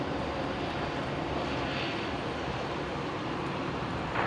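A Qantas airliner landing on runway 19 left at Brisbane airport: a steady, loud, broadband jet roar that holds evenly throughout without fading, with no voices.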